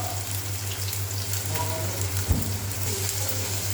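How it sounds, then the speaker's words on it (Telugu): Onions and green chillies sizzle in hot oil with a steady, close, even hiss and crackle, alone without talk. "ఆయిల్ కాగిన తర్వాత ఉల్లిపాయలు వేస్తున్నాను. ఉల్లిపాయలు పచ్చిమిరపకాయలు వేసుకుంటున్నాను."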